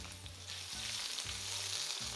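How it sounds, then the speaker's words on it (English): Chopped jalapenos sizzling in two tablespoons of very hot olive oil in a pan, a continuous bright frying hiss with a few soft stirring bumps and no voices. "Now in my pan, I have 2 tablespoons of very hot olive oil. And I'm just gonna add those"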